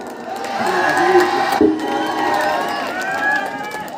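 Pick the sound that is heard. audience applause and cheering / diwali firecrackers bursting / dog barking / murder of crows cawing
audience applause and cheering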